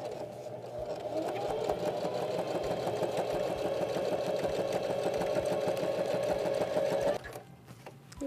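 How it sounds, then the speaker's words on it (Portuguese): A domestic sewing machine runs steadily, stitching a patchwork apron with a loud, continuous whirring drone for about seven seconds before stopping abruptly, leaving quieter room sound behind. "Aí agora eu posso costurar aqui."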